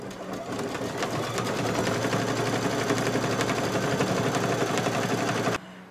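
An embroidery machine stitches a placement line for a black fabric shelf on a candy corn quilt shop design, a loud, steady, rapid needle chatter running continuously before stopping abruptly near the end.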